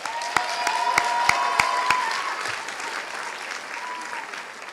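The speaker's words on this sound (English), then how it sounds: "let's give our queens, Kobe Painting and Jayla Ruffin, a round of applause" Audience applause at the 2023 DSA Awards ceremony honoring two queens, a steady wash of many hands clapping with a few sharp nearby claps early on, gradually thinning toward the end.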